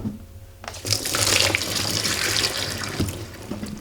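Cold tap water running over broccoli in a kitchen sink, a steady close splashing gush that starts abruptly and continues with small clatters.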